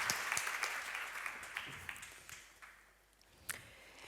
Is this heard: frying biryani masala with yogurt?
no